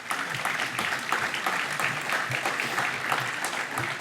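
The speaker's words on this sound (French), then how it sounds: "je crois on peut applaudir pour leur fidélité" An audience at a Christmas lunch debate applauds steadily, a dense, sustained round of clapping filling the room at even strength.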